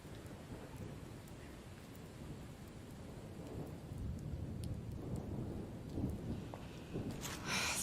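Steady rain patters down while thunder rolls and rumbles beneath it, swelling louder toward the end with a sharper crack in the last second, and no voices are heard.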